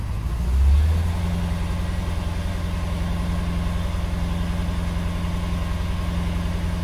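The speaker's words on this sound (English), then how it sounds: "I can hear the alternator happily whistling away." Jaguar XJ12 Series 3 with the engine idling, a steady low rumble running evenly throughout and a faint thin whistle from the alternator sitting above it.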